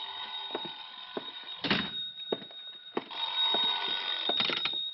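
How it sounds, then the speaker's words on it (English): An old-fashioned telephone bell rings in repeated bursts with short pauses between them, loud and close, in a vintage radio detective drama. "I think that's my phone."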